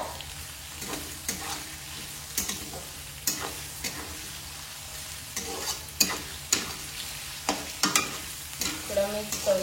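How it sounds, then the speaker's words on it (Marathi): Chopped onion frying in a pan for a spicy Pahadi chicken curry, with a steady sizzle broken by repeated sharp scrapes and clatters of a spoon stirring at an uneven rhythm, close and fairly loud. "आपण लगेच त्याच्यामध्ये कांदा टाकू"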